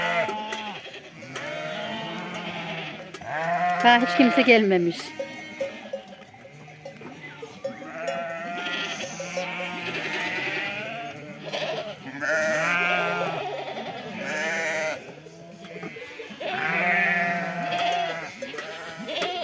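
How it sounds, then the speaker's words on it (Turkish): Several sheep bleat repeatedly in a steady chorus, some close and loud, with a brief spoken line mixed in. "Koyunlarımız da daha yeni yeni geliyor."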